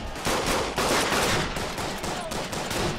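Sustained covering fire in the World War I shooter game Verdun, dense bursts of rifle and machine-gun shots, loud and nearly continuous across the whole stretch, with no talk.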